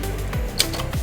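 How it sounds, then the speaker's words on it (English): An ADLER Gabriele 25 vintage portable typewriter's mechanism gives a few sharp, close clicks and clacks in quick succession, with a brighter snap in the middle. "Beautiful ADLER portable typewriter."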